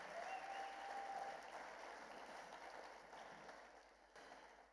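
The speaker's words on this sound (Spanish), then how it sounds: "Aplaudamos al Dios de los cielos." A church congregation at a Christmas service claps steadily in a dense, continuous round of applause that slowly fades near the end.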